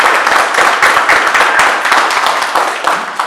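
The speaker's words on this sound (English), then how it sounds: "let's give them a nice round of applause" Audience applause closing a blockchain social impact session, a dense, steady wash of many hands clapping at close range for a few seconds with no talk.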